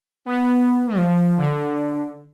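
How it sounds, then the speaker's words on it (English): A Fraction VST software synthesizer with its vintage section turned up plays a sustained, buzzy, raspy tone with a retro grit; the pitch drops twice in steps over about two seconds, loud and alone. "adding a bit more raspiness and some retro elements to the sound to kind of dirty it up a little bit"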